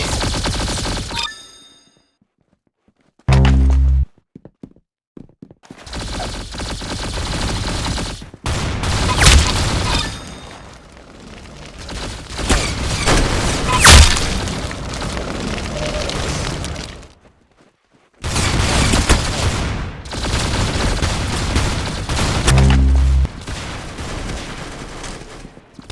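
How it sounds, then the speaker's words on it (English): Gunfire in the Roblox Arsenal video game: loud, dense bursts of shots and booms for long stretches, broken by brief silences and short game interface blips, with no talking. "That's some beautiful shooting right there."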